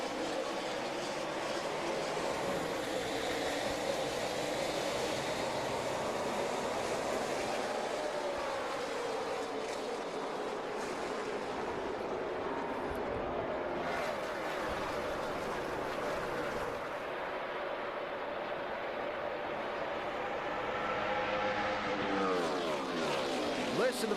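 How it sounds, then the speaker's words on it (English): A pack of NASCAR stock cars roars off at the race start at Charlotte Motor Speedway, a dense, sustained engine scream with shifting pitch, heard under a commentator's voice. "Listen to those engines scream off into turn 3."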